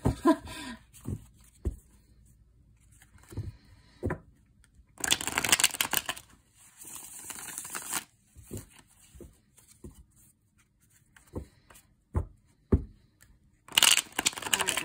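Tarot cards being shuffled by hand in repeated short riffling bursts, with quiet pauses and soft taps between, close and fairly quiet.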